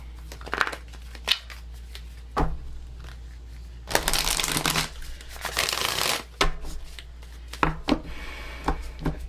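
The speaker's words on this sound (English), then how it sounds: "I have to shuffle these cards better." Close, rough shuffling of a deck of spirit-guide reading cards, with bursts of brisk riffling and sliding, interrupted by brief pauses and soft taps.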